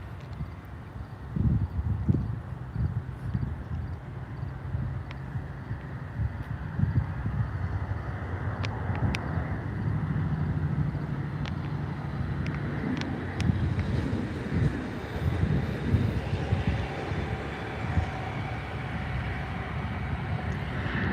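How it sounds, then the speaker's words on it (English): A WestJet Boeing 737 airliner arrives at Vancouver's YVR airport as a low, sustained jet rumble heard from a distance. Gusty wind buffets the microphone throughout and largely masks the engines. "that's a WestJet Boeing 737 what was that, 700?"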